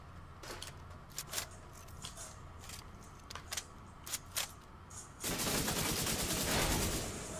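Machine gun fire in the video game The Division 2, with scattered bursts and rapid cracking shots, then a denser, louder stretch of sustained automatic fire toward the end.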